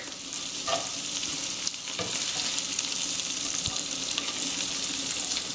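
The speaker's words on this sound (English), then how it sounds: "And we're just going to warm this Tasso up." Already-cooked smoked pork tasso warms in a skillet, giving a steady close sizzle and frying crackle with a few brief scrapes and clicks of stirring.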